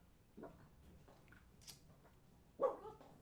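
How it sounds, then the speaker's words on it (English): A dog barks at someone outside, a few sharp barks heard indoors at a distance, faint and intermittent, with the loudest bark near the end. "My dog's getting mad because there's somebody outside."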